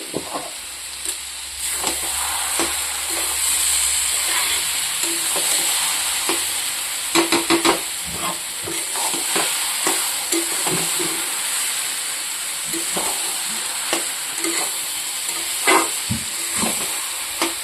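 Shredded cabbage cooks in a pan with a little ghee sprinkled over it, giving a steady close sizzle and hiss broken by repeated scraping stirs from a utensil.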